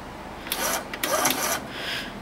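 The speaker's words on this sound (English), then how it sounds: "this printer alone is a very interesting piece of equipment" A strip-chart recorder's printer runs in short buzzing bursts, two quick ones then a longer stretch, close and fairly quiet against a faint hum.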